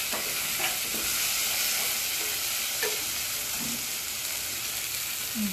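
Egg is stirred and fried in a spiced masala for egg tarka, giving a constant close sizzle broken by occasional scraping spoon strokes, with no voices.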